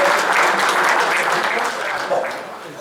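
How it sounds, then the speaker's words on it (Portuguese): An audience gives dense applause for a speaker at a commemorative gathering in a hotel, loud at first and tapering slightly toward the end. "Uma salva de palmas para o Dr. Medeiros."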